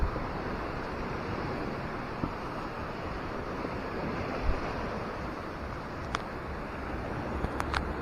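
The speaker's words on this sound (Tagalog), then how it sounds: "Malakas ang alon." Strong ocean waves surge at a river outlet on the seashore, a steady broadband roar of surf close by, with wind buffeting the microphone and a few faint clicks, no voices.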